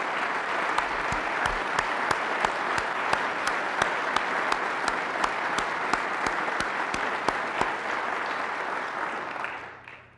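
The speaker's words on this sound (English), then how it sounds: "Let's all give a round of applause to the productive people of our state." Steady applause from an audience at the 2011 North Dakota State of the State address, dense clapping sustained for about ten seconds with sharp claps standing out, then fading away at the end.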